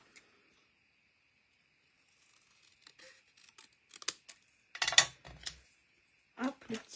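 A paper trimmer (massicot) slicing through paper, a series of brief crisp scraping and cutting bursts growing louder toward the end, close and alone in a quiet room.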